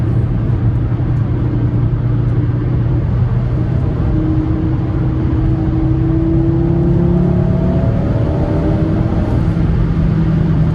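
An Audi RS3 engine revs while driving, a loud, steady in-cabin drone with rising and falling engine tones under road rumble, no voices present.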